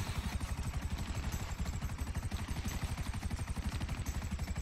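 Gunfire in the video game GTA V crackles in rapid, evenly spaced bursts, a dense automatic-weapon rattle that is quiet and steady throughout.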